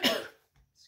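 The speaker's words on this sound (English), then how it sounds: "I'm getting this weird cough thing happening now" A single sharp human cough from someone with a sore throat, close and loud, fading quickly into near silence with a faint breath afterward.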